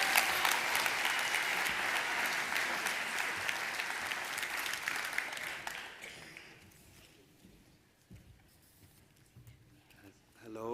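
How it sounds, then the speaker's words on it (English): Audience applause at the IDFA 2022 awards ceremony as the jury takes the stage: dense clapping from a large hall for about six seconds, then fading out into quiet room noise with faint movement and a voice starting at the end. "Please give them a warm round of applause as they take the stage."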